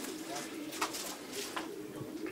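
Pigeons in a loft coo softly, a few low murmuring calls scattered over a dim, close background.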